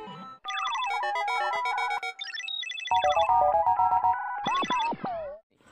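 A phone ringtone plays a bright, electronic melody of quick stepped tones, fairly loud and alone, repeating its phrase before cutting off.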